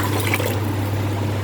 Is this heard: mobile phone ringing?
no